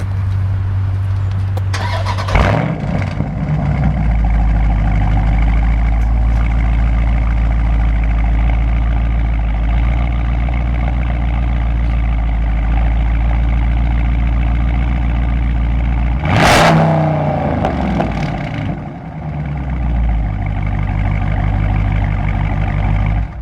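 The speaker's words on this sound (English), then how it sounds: "I got to give you the cold start" A 2019 Dodge Charger Scat Pack fires up from cold with a sharp starter bark and flare, settles into a deep, loud, rumbling idle, then gives a quick throttle blip that rises and falls before idling on.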